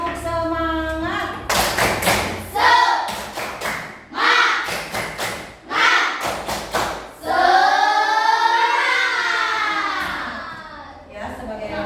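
A school class performs the rhythmic 'tepuk semangat' clapping chant, with sharp claps and thumps landing in quick bursts between loud group chanting voices, close and lively throughout.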